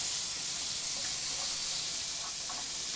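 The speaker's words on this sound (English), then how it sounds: "I'm going to add garlic." About a tablespoon of garlic sizzling in a pan where butter has just melted, a steady bright hiss that holds at an even level throughout, with faint crackles popping over it.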